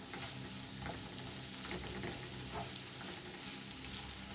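Sliced onions frying in a pan, being stirred while they soften for a pointed gourd and egg dish: a steady, close sizzle with small crackles and a few scraping stirs, with no talking.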